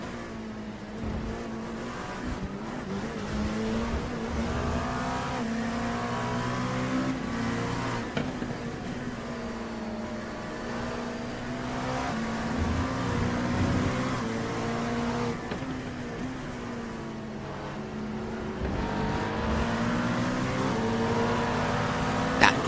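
GT3 and GTP race cars run in mixed traffic at Monza in an endurance racing video game, engines revving and shifting continuously as cars pass, with rising and falling pitch sweeps and a brief tire squeal, loud and without talk.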